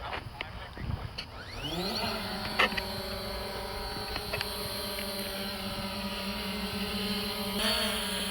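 A Fimi X8 SE drone's motors spin up during auto takeoff, a steady high whine with rising tonal harmonics that holds loud and continuous near the mic.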